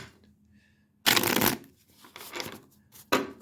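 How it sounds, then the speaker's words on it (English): Tarot cards are shuffled up close in a few quick riffling bursts, crisp papery flutters separated by short quiet pauses, with no talking. "I'm going to shuffle this one more time on camera"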